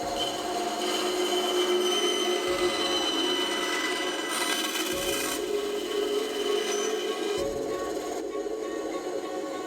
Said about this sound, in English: Using the bandsaw now to trim these down.